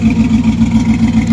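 An LS-swapped 2008-style Chevy truck engine with dual exhaust idles steadily close by, a loud, even rumble with a low throbbing pulse, electric fans running, and no voices.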